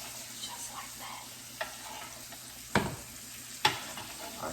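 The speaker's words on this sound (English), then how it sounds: "Take that butter and that garlic, and you can spoon it right over your steak." Rib eye steak sizzling in a pan as butter and garlic are spooned over it, a steady close sizzle with a few sharp spoon-and-pan clinks at irregular moments.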